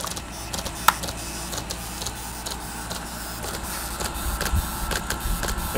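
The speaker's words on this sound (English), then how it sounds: "There we go, the pump is running." A small battery-powered misting pump running for a window air conditioner makes a faint steady mechanical whir with a rapid rhythmic ticking pulse and one brief click near the start, with no talking.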